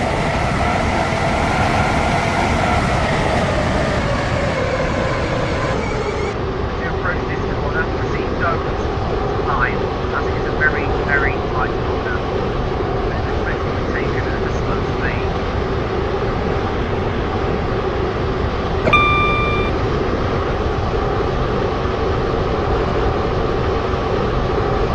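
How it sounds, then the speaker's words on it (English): A train in the Stepford County Railway video game runs on a steady, loud rolling drone, with a pitch drop partway through and a brief chime near the end. A recorded announcement voice speaks over it. "This is a Connect train to Port Benton."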